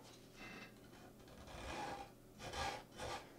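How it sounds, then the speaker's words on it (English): A painting knife scrapes blue oil paint off a painting panel in several soft, raspy strokes, faint and close, with short pauses between the passes. "I'm going to scrape some of the blue off of here."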